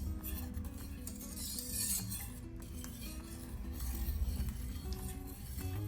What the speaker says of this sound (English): to melt that slowly and just whisk that together